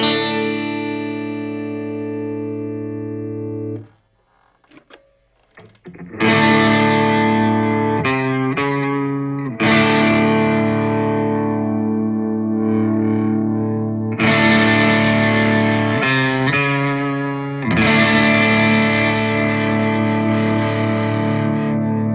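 Electric guitar played through a Soundblox Multiwave distortion pedal, loud and sustained: a short chord, a brief gap, then thick, saturated notes and chords that ring on with long sustain.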